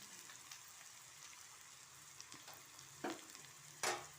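Frying in a pan, a faint, steady sizzle with light crackles, broken by a couple of short, sharper bursts near the end, heard close and alone.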